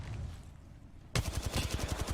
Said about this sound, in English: Shooting from behind.